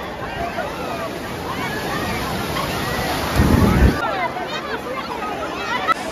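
Sea waves wash onto the beach at Digha, a steady broad roar of surf with wind noise, swelling briefly louder midway as a wave breaks close by, with distant crowd babble in the background.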